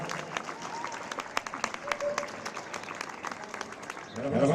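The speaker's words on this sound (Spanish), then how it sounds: "Es último aplauso a las tres primeras clasificadas de esta categoría." A crowd claps for the top three finishers at a women's cycling race podium in Estella, moderately loud and continuous, easing off toward the end as a brief voice and noise rise.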